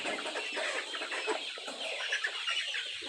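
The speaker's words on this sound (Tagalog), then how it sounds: "ayan yung ating mga sisiw" Young chicks on a backyard egg-production farm cheep and cluck continuously, a dense, close chorus of high bird calls with no voices over it.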